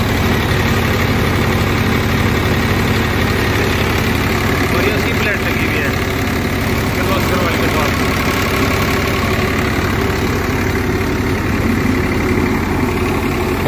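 A 2000-model tractor with a three-cylinder Kirloskar engine and inline pump idles with a steady, heavy, low rumble and a slight knocking texture. It stays close and continuous throughout, with someone talking over it.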